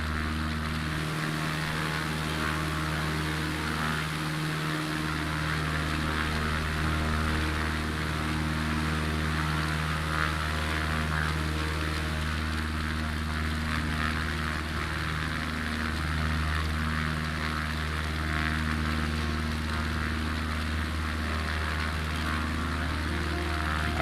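A B-17 bomber's propeller engines droning in Microsoft Flight Simulator 2020, a steady, multi-toned hum that holds at a moderate level for over twenty seconds with no talk.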